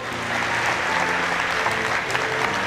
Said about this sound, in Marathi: सर्वांनी एकदा स्वतःसाठी टाळ्या वाजवा